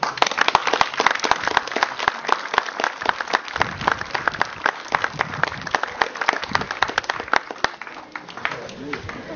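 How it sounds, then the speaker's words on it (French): Crowd applause at a village festival in St Julien du Verdon, steady dense clapping throughout with a voice or two murmuring underneath. "Je pense qu'il mérite nos applaudissements."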